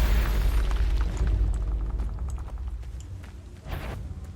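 Spell explosions from the video game Hogwarts Legacy boom with deep, rumbling low-end force, fading over a few seconds before a smaller burst near the end.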